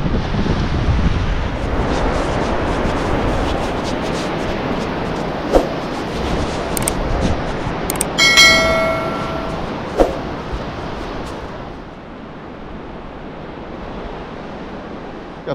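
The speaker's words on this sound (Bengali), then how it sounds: "এই হচ্ছে হেনরিস আইল্যান্ডের সমুদ্র সৈকত, দেখুন" Sea waves wash onto the beach at Henry's Island near Bakkhali in a continuous roaring surf, heavily buffeted by wind against the microphone, with a few sharp clicks and a brief metallic ring midway.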